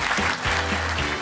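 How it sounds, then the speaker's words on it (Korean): Applause from a studio audience greeting the guests at a Korean economics talk concert, a brief dense burst of clapping filling the room. "박수로 좀 맞이해주세요."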